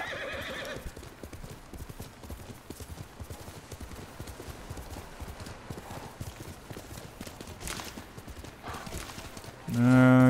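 Hooves pound in a rapid, steady galloping rhythm throughout, ending with a loud horse whinny up close, in the video game Ghost of Tsushima.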